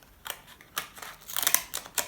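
Several crisp snips of decorative-edge scissors cutting paper, quick and close, in a loose irregular rhythm with brief pauses between cuts.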